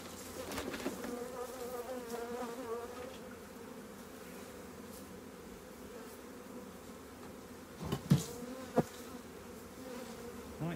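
Honey bees from a recently merged colony hum steadily around an opened hive, a dense, continuous buzz with a few louder passes close by near the end.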